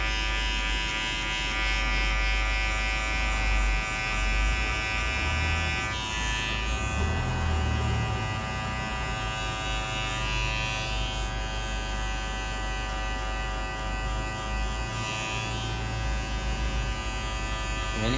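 Electric hair clipper fitted with a 1.5 guard cutting hair during a fade, a steady close buzz running throughout with small shifts in pitch as it passes over the head, and faint voices in the background.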